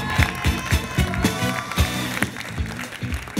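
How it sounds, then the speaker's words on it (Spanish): Studio audience on a Bolivian family game show claps steadily for a contestant, rhythmic, fairly close clapping with beats roughly every quarter second, some voices underneath. "Le damos un fuerte aplauso a Caterine de los insuperables"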